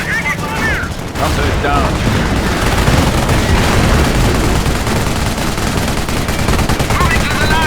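Dense, continuous video-game battle gunfire from Company of Heroes, set in Operation Market Garden, with rapid machine-gun bursts and rifle shots layered into a loud, steady barrage, and shouted voices breaking in over the shooting.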